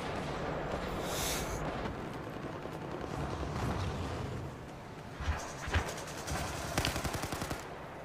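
Sustained automatic gunfire rattles through a Battlefield 4 firefight, dense and continuous for several seconds before thinning into a few sharper, closer bursts and single shots.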